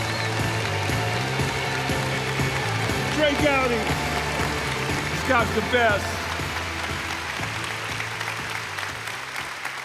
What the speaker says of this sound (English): Let's stand and give him a crazy round of applause.